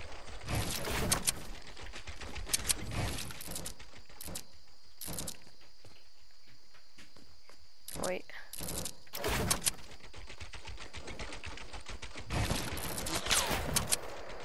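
Sniper rifle shots ring out in the video game Fortnite as several sharp, loud cracks spread across the stretch, separated by quieter in-game ambience.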